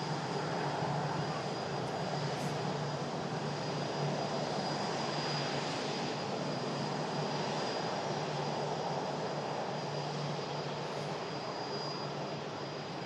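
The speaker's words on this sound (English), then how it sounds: "Yes, two lovely aircraft." Aircraft engines roar steadily at Manchester Airport beside the nearest runway, a continuous loud broadband rumble with a sustained high whine, lasting throughout without a break.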